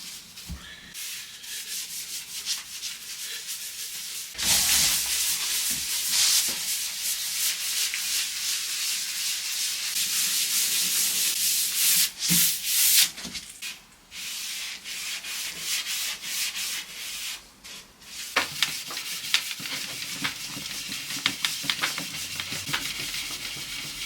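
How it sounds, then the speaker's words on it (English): Steel wool scrubbing old finish off wooden furniture parts with chemical stripper, a steady close abrasive rasping that runs on without pause and rises in intensity after the first few seconds, with no talk. "Just some steel wool and a bit more stripper, not much."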